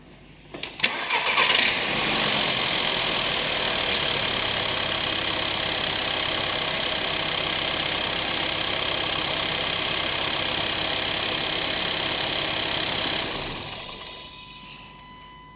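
A Volkswagen FSI/TSI petrol engine with a newly installed high-pressure fuel pump cranks at length on its first cold start of the day, a steady loud starter churn running for about twelve seconds before it fades away.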